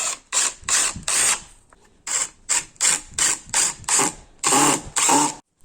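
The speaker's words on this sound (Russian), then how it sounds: "Сразу засверливаем. И притягиваем саморезами." A power drill-driver drills and drives self-tapping screws through a wooden board in short, repeated whirring bursts with brief pauses between them, close and clear.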